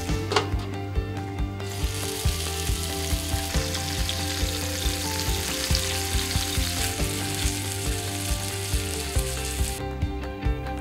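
Jeju-style giant dagami kimbap fries in a pan, with loud, continuous sizzling and scattered clicking scrapes as it is flipped and pressed into a square shape, and no one speaks.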